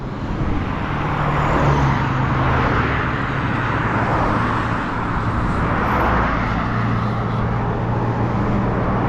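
Small car passing on a road beside Nairobi National Park, a steady engine and tyre hum that swells and fades over several seconds amid constant road and traffic noise, no talk.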